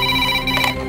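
In a movie scene a telephone rings with a loud electronic tone made of steady pitched layers, heard close and alone for under a second.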